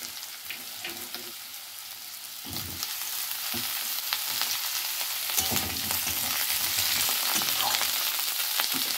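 Potatoes and capsicum sizzle steadily in a hot pan, with intermittent scraping and stirring that grows louder toward the end; no voices.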